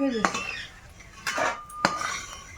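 Metal cooking utensils clink and scrape against a pan while lentil dumplings fry in a home kitchen, making a few sharp, close clatters separated by quieter sizzling gaps.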